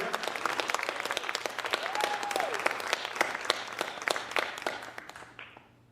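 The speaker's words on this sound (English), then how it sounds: "Give yourself a round of applause." An audience at a spoken word event applauds steadily, dense clapping at close range that holds for several seconds before thinning and fading out near the end, with a brief whistle and some crowd noise mixed in.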